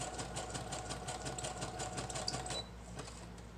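A sewing machine stitches paper journaling cards for a junk journal, a close rapid mechanical chatter of needle strokes that runs steadily and then stops, leaving a quieter hum.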